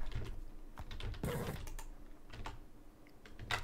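Quick, irregular bursts of keystrokes on a computer keyboard, close and fairly quiet, clatter in short clusters with brief pauses between them.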